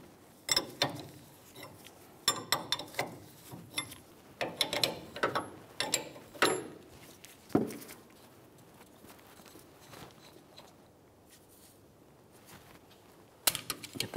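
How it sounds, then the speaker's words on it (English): A ratchet loosens the jam nut on the steering tie rod of a Nissan Titan pickup, giving irregular bursts of metallic clicking and clunks with pauses between, close and moderately loud in a quiet garage. "Now let's turn that jam nut counterclockwise to fully remove it."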